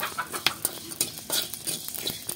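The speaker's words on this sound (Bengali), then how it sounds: "এখানে জিরে আর ধনেটা আমি একসঙ্গে ভেজে নেবো।" Coriander and cumin seeds dry roasting in a wok, with quiet scraping stirs and light crackling pops scattered irregularly over a soft background, close and faint, no talking.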